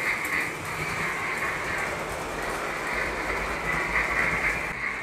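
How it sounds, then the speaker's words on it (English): A model train runs steadily along a mountain layout, producing a continuous rolling rumble with a whining mechanical tone and faint wheel clatter throughout, close and alone. "the train is going around and down the face of the mountain"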